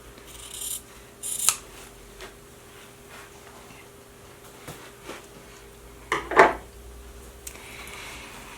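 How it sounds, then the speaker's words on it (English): Scissors trim fabric bias binding being attached to a bag, giving two or three crisp, close snips separated by quiet handling and faint rustling. "take my scissors, and I'm going to trim about 1 inch beyond that lower folded edge"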